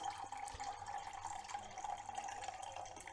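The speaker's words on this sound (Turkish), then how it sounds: "Buradan hemen bunun suyunu süzeceğim." Cooking liquid from olive-oil stuffed Antep peppers being strained off, a steady close trickle and splash of pouring liquid that runs without a break.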